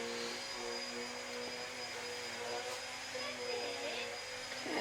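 A Hoover vacuum cleaner drones steadily in the background, its whine constant with a faint tonal hum throughout, while a voice occasionally murmurs over it.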